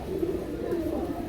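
A pair of pigeons, a male and a female, coo softly and steadily at close range, giving a low continuous murmur with no talking.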